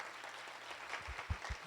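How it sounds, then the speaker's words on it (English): Applause from an audience at a closing session of a conference builds from quiet into scattered clapping, faint and distant, growing slightly toward the end. "very wild round of applause."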